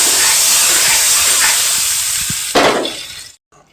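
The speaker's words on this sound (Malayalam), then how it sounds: "കറിയിലേക്ക് കടുക് വറുത്തിടുന്നു." Hot tempering of mustard seeds, dried chilli and curry leaves poured into ashgourd sambar gives a loud, steady hissing sizzle that rises briefly in a burst before cutting off.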